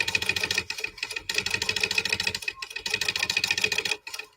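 Sewing machine stitching a crossbody bag, loud rapid bursts of mechanical clatter in several runs separated by short pauses, ending abruptly.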